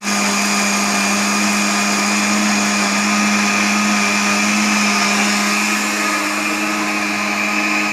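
A kitchen blender whirs steadily at a loud, constant pitch while blending cut apples with milk into a milkshake, running close up with no pauses and no voices.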